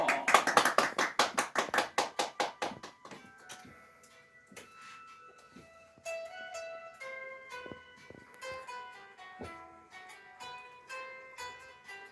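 A studio audience at a live radio show claps in a quick, even rhythm for about three seconds. The clapping then stops and gentle instrumental music takes over.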